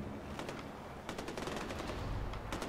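Rapid automatic gunfire in the video game Far Cry 4 rattles in quick bursts of sharp cracks, close and loud, with short pauses between volleys over a low rumbling game background.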